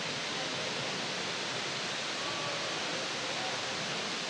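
The indoor waterfall at the Dubai Mall gives a dense, steady rushing hiss of falling water that fills the space evenly throughout, with no break.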